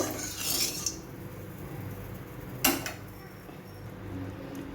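Salt being stirred into hot mustard oil in a wok while cooking pomfret, with two brief metallic scrapes and clinks of a utensil against the pan over a faint low background.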